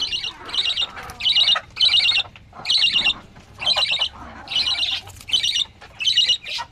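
Loud chicken squawks repeat in quick bursts, about a dozen harsh calls with short gaps between them, close by and with no talking.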